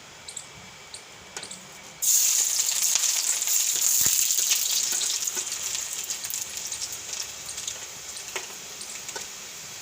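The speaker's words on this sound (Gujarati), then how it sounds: "તેલ ગરમ થઈ ગયું છે તો પહેલાં એમાં આપણે લસણ નાખી દેવું" Garlic dropped into hot oil for a bitter gourd (karela) chutney, bursting into a loud, steady sizzle after a quiet start and continuing with crackling pops throughout, with no talk.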